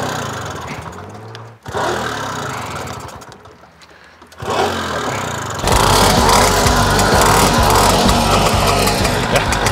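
A Sachs Carello three-wheeler's small engine cranks in short bursts, then catches and settles into a loud, steady, buzzing run close by.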